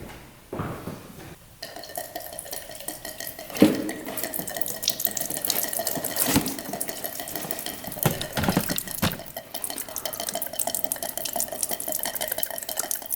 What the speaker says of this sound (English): Let's drain the gas out of here.